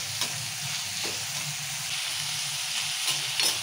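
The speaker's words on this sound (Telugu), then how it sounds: "ఇప్పుడు ఇవి ఎర్రగా ఉల్లిగడ్డలు మిరపకాయలు ఎర్రగా వేగిన దగ్గర ఇట్లా కలుపుకుంటున్నాము" Onions and sliced green chilies fry in oil in a pan for okra curry, giving a steady close sizzle broken by a few soft stirring scrapes.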